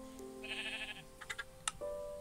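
Sheep bleating in a video game: a short, bright bleat rises early on, then a few clicks and blips follow before a steady electronic tone takes over.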